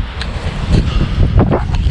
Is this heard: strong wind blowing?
yes